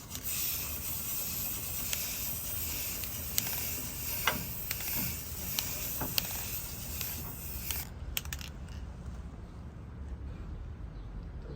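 A spray can hisses in a long continuous burst close up, with a few sharp clicks and rattles, then cuts off, leaving quiet.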